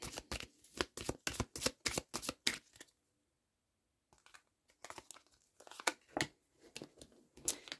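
Tarot-style cards being shuffled and drawn by hand: rapid bursts of crisp riffling and flicking, a brief pause of near silence, then more close, quiet card shuffling and slapping.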